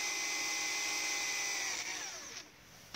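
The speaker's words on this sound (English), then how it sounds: "drill another 5/8 hole" A power drill bores a 5/8-inch hole through steel for a homemade pivoting car tow dolly trailer, a loud steady whine that holds and then winds down near the end with no talk.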